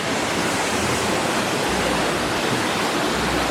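Nachisan waterfall in Japan, the country's biggest drop, roars as a steady, dense broadband rush of falling water with a deep low rumble, continuous and loud throughout.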